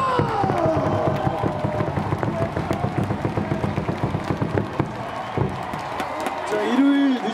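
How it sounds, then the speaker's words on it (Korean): Crowd noise in a Jamsil baseball stadium after an LG Twins game against Lotte ends in a 12-inning tie, with a dense wash of voices, chants and scattered claps and thumps carrying steadily throughout. "우리 선수들에게 다 같이 박수를 모아주시기 바랍니다"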